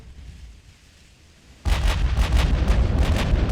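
A battleship's 17-inch main guns fire in the naval game Ultimate Admiral: Dreadnoughts: after a quiet hum, a sudden loud roaring blast erupts and rolls on in overlapping booming salvos.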